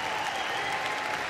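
Large crowd applauding at Crufts 2012 during the terrier group judging, steady dense clapping filling the hall without pause, no talk over it.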